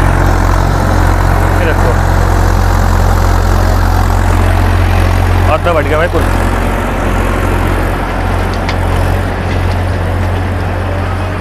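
A Massey Ferguson 7250 46 hp tractor works a field with an 8 ft rotavator, giving a loud, steady low engine drone and mechanical churn throughout, with someone speaking briefly over it.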